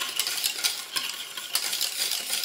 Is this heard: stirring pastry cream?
yes